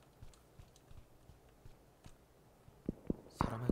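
Footsteps in PUBG: Battlegrounds, a series of soft, evenly spaced thuds that grow louder and closer toward the end, with no talk over them.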